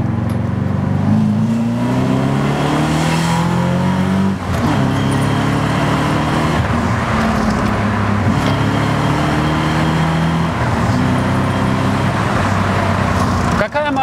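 A BMW E34 540i V8 accelerating hard to overtake, heard from inside as repeated rising engine sweeps through the gears with road noise, loud and close, while someone talks over it.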